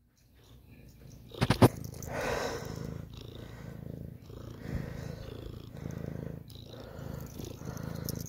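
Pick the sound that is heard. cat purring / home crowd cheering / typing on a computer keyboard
cat purring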